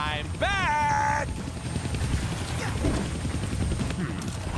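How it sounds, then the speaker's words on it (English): A helicopter in the PS4 game Deadpool, heard as a continuous whirring rotor drone beneath busy game effects, with a short rising-and-falling tonal sweep near the start. "I can't kill that chopper with my guns"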